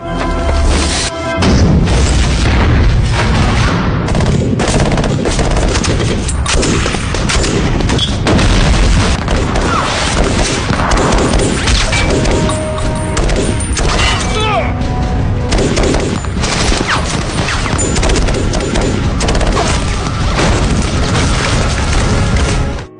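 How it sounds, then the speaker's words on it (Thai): Dense, loud war-film battle from 13 Hours: The Secret Soldiers of Benghazi, with gunfire and booming explosions running continuously and without letup, a chaotic wall of shots and blasts filling the whole stretch. "ไปสาดกระสุนกันได้เลยครับ"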